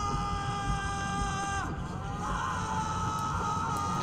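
Sustained, strained screaming voices sit inside a dense audio mix bathed in room reverb, with a continuous loud wash and no pauses for the whole stretch.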